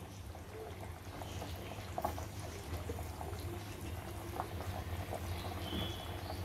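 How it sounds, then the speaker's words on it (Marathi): A pot of tuna fish curry bubbles at a gentle, steady simmer, with occasional soft pops over a low hum. "आपलं कालवण चांगलं उकळलेलं आहे"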